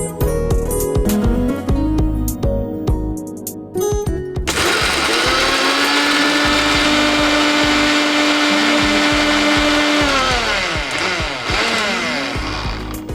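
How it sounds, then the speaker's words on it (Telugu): A kitchen mixer grinder grinds spices into powder, a loud steady motorized whine running nearly the whole time after a few short bursts at the start, with no voices over it. "మనం మిక్సీ పట్టుకుందాం."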